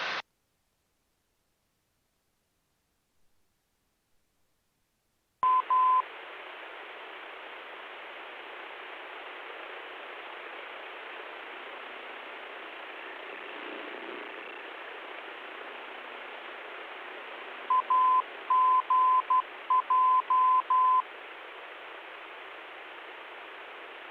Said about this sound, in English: We haven't listened to KJG ident, so we can do that now.